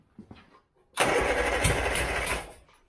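An A-series engine in a Turner Ranger mini-based tractor cranks after a few faint clicks, bursts into a loud, rough, uneven run for about a second and a half, then cuts out.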